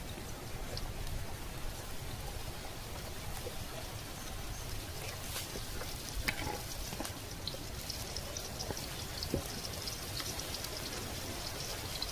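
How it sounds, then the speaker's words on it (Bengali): Potato chops frying in hot oil, a steady, even sizzle and crackle that holds at moderate loudness throughout with a few small pops. "সুন্দর করে লাল লাল করে ভাজবে"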